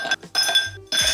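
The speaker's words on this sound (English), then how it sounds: "I'm just gonna put some ice cubes in my glass" Ice cubes drop into a drinking glass in a few bright, close clinks and rattles, separated by short pauses.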